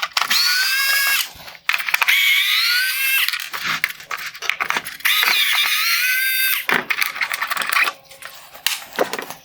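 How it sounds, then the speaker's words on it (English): A power screwdriver or drill removes T20 screws from the black plastic bezel of a 2013-2017 Range Rover xenon headlight, giving repeated whining bursts with short pauses and faint clicks, close and fairly loud. "I'm going to remove the T20 screws holding on the black plastic bezel."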